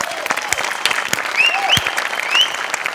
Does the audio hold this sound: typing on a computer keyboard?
no